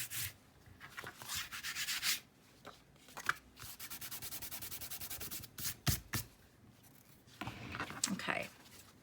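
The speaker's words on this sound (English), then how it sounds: "Okay, so I'm just going to trim that away." Excess paper being trimmed off an envelope-style notebook, close scraping and rubbing cuts in bursts, one long rapid rasping stretch, with pauses between strokes.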